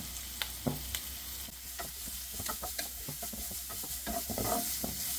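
Chopped carrots are stirred and sautéed in a pan over a high flame, with a constant sizzle punctuated by frequent sharp spatula clicks and scrapes, close up and without voices.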